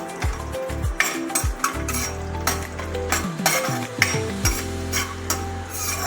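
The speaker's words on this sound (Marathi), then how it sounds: "इथे आपण तुपामध्ये बदाम करून घेऊया" Almonds fry in ghee in a pan over a low flame, with a gentle sizzle under repeated clinks and scrapes of a spoon stirring against the metal.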